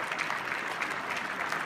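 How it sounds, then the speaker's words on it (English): Dense, steady applause from a dinner-party audience at a cystic fibrosis celebrity charity dinner, many hands clapping close and loud without pause for the whole short stretch. "Keep the applause going."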